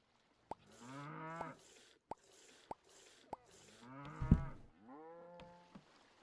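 Cows in the Old Market Simulator farm game moo in long drawn-out lows, several calls in a row with sharp clicks and a plop between them, fairly close and clear.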